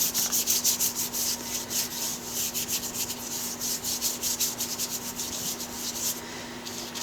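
Brush bristles scrub paint onto paper in quick repeated rubbing strokes, a close, rhythmic scratchy swishing that keeps going steadily, with a faint steady hum behind it.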